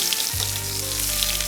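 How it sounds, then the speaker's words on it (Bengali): Onion slices frying in hot mustard oil in a wok: a dense, continuous close sizzle that swells as the onions hit the oil, steady throughout with no voices. "1 মুঠো মতো পেঁয়াজের স্লাইস দিতে হবে, দিয়ে খুব ভালো করে নেড়ে ভাজতে হবে"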